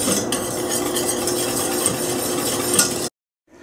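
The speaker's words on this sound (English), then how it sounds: "you go around with the whisk very well to grab everything" A whisk sweeps around a pan of roux for béchamel sauce, making a continuous close scraping and swishing for about three seconds before stopping dead, with no voices.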